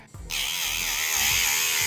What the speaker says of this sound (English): I might get my drill out just to drill it down.